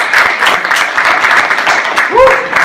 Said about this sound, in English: Hey guys, round of applause for robots.